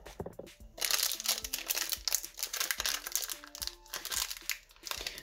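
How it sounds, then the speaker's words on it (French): Crinkly plastic rustling and crunching with sharp snips, close and busy, like packaging being cut open with scissors. "Il va me falloir également une paire de ciseaux pour l'ouvrir."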